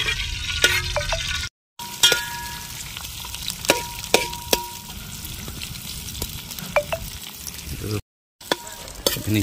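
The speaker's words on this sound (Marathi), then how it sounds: "कांदा आपला फोडणी चाललेला आहे बघू शकते मित्रांनो" Onion tempering frying in a pan while chicken is cooked, a steady close sizzle with occasional clinks of a utensil against the pan, nothing else over it.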